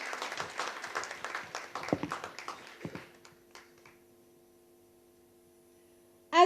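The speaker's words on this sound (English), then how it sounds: "A huge round of applause to Mr." School event audience clapping for a guest speaker at an international school, a lively burst of applause that fades out after about three seconds, leaving a quiet hum before a sudden loud sound at the end.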